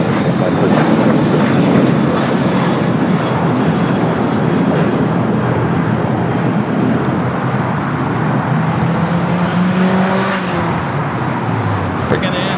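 At LAX airport, an aircraft taxis past with a broad, loud engine rumble and roar, a jet whine rising near the end, while someone talks over it.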